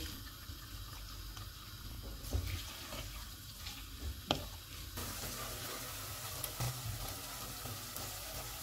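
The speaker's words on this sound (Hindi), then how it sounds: "प्याज डालेंगे, इनको गोल्डन फ्राई करेंगे।" Chopped onions frying in hot oil with whole spices in a handi for chicken biryani, a steady soft sizzle running throughout with a few brief stirring clinks and scrapes, fairly quiet and with no talking.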